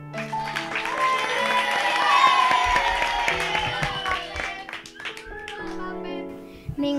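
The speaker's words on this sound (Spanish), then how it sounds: "Demos un fuerte aplauso a nuestras estrellas invitadas," An audience at a seminar gathering claps for guest stars, scattered applause mixed with music and voices that swells, then trails off.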